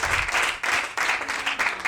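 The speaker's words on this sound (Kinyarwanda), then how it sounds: "Mukomera amashyi muneza kugira ngo yumve ko muhari." Audience applause at a live comedy show for performer Muneza, a steady wash of many hands clapping that fills the whole moment with brief dips.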